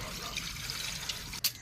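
Fresh water is poured onto freshly boiled sea clams in a village cooking setting to cool them, making a faint, steady splashing trickle for a moment before a brief louder splash.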